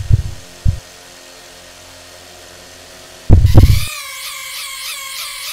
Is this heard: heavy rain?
no